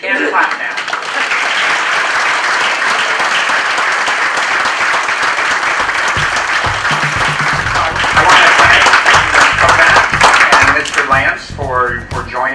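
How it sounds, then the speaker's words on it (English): Audience applause after a chamber debate fills the room, a dense steady clapping that swells louder midway, with a voice speaking over it at the end. "Yes, you can clap now."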